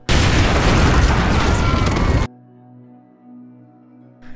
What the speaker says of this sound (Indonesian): Di saat itulah bom itu pun meledak.